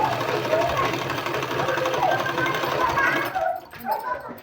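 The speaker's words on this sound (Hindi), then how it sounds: "पूरे को इस तरह से सिलाई लगा देनी है।" An electric sewing machine stitching a sleeve runs steadily with a fast whirring rattle, close and fairly loud, stopping just before the end, with a voice talking over it.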